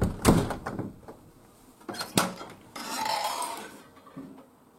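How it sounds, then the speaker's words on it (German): A door on a houseboat being opened, with a few knocking clunks and rattles of the latch and frame followed by a short scraping slide, close by and with no talking. "Hier ist auch noch eine Tür."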